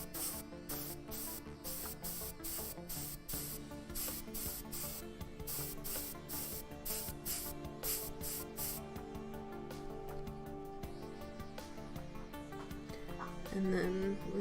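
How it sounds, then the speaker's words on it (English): An airbrush sprays paint in short bursts while priming a miniature, producing a steady airy hiss with rhythmic pulses and a brief faint voice near the end. "It's a little wet, so I'm usually kind of just using the airbrush to help"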